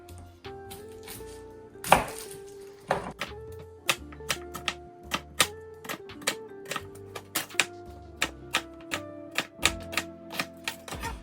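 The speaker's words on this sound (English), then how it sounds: "We're gonna chop 1 onion." An onion is chopped with a knife on a cutting board for shakshuka, with steady, fairly evenly spaced crisp knife strikes, loud and close, continuing without speech.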